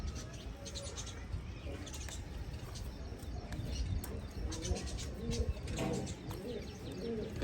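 Pigeons coo in a low, continuous murmur with scattered chirps, close and steady throughout, with faint voices in the background.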